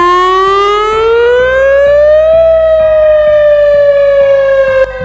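A WS1000 electronic warning siren wails alone, loud and close, its rising and falling tone sweeping slowly upward and then holding steady, with harmonic layers stacked above it.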